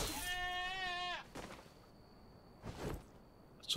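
Sheep in the survival game Enshrouded bleating once in a long wavering cry, close and clear, followed by soft footsteps and faint rustles in a quiet outdoor scene.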